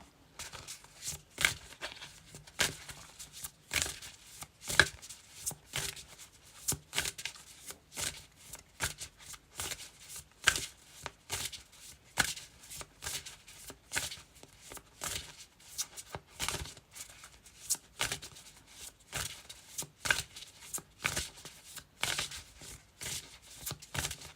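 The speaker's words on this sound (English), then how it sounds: "Let me just do another shuffle." Quiet, repeated riffling bursts of a deck of cards being shuffled, rapid papery flutters coming in quick irregular rhythm, close up.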